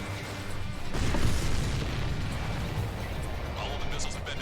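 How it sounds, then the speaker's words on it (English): A missile strike and explosion in a combat flight video game, a booming burst that swells around the first second and then rumbles on in a lingering roar, with a voice speaking over it. "Missile hit."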